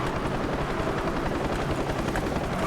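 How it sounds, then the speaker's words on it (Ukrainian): Helicopter in the racing video game Need for Speed: Hot Pursuit (2010), a steady dense rotor drone with rapid chopping pulses, loud and continuous throughout with no talk. "Гелікоптер я застосував."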